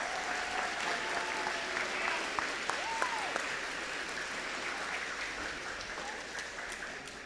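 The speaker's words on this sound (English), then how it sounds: "Let's give them a round of applause." Steady applause from an audience at a Board of Education meeting fills the whole stretch, with a few scattered whoops over the continuous clapping.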